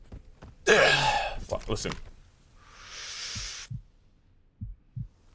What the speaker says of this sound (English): Every time that I go to hold my breath for a snipe shot.